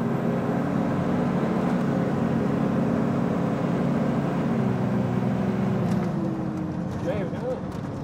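A stock-injector VP44 Cummins diesel truck on a dyno roars loud and steady throughout, a deep low drone that swells and holds, with faint higher whines near the end.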